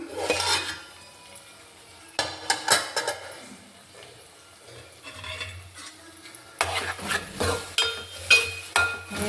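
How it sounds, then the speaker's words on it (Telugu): Metal clatter of a lid going onto a cooking pot while guddlu dumpala kura simmers, with sharp clinks and scraping in bursts, some louder knocks near the end, and no talk. "ఇదిగో మూత వేస్తున్నాను"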